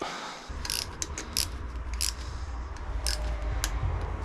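Torque wrench ratcheting and clicking while tightening bolts on a Kukirin C1 Pro electric scooter to about 5 or 6 Nm, a series of close, crisp mechanical clicks at irregular intervals over steady background hum.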